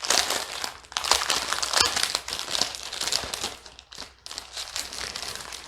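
Continuous crinkling and crumpling of plastic packaging as a painting kit's inventory sheet is pulled open, close and steady with no talk.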